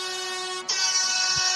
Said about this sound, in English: I've got an air horn for you.